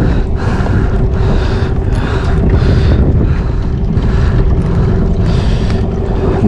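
Strong wind roars across open water at a fishing spot, buffeting the microphone in gusts, with the steady churn of a boat engine and waves underneath.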